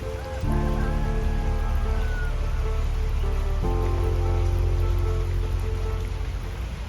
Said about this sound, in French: Il pleut, il mouille, c'est la fête à la grenouille